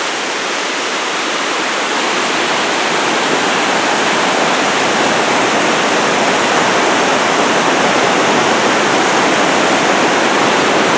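A river rushes steadily beneath a swaying hanging bridge, producing a loud, continuous roar of flowing water with no voices.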